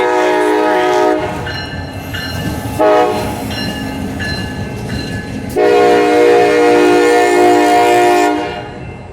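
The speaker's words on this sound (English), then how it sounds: "it's still a train, even though it's just an engine." A CSX GP38-3 diesel locomotive rumbles past close by, its horn blaring in long, loud blasts over the heavy engine drone.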